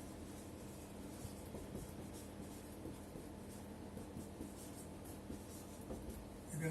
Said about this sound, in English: I'll write the next point here.